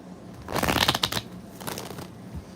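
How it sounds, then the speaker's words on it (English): Tarot cards being shuffled during a psychic reading, a close, crisp flurry of riffling card edges that swells and fades, followed by a second, softer burst of shuffling. "Current energy check-in."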